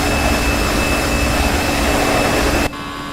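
A JARDesign Airbus A320 in the X-Plane 11 flight simulator roars with a loud, steady jet-engine whine during takeoff, then drops abruptly to a quieter hum near the end.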